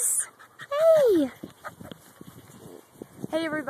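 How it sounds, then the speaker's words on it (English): Great Pyrenees and Border Collie puppies whimper with a drawn-out falling whine and softer panting and snuffling, close by, ending in a rising yelp-like whimper. "I have two Great Pyrenees and Border Collie puppies right here."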